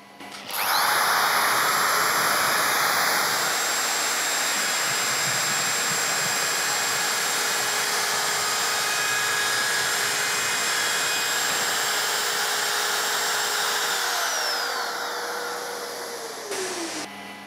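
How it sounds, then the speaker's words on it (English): A Festool OFK 700 edge router runs steadily with dust extraction attached, trimming edging as a loud continuous high whine that holds for about fifteen seconds, then winds down. "now we're ready to trim the edging"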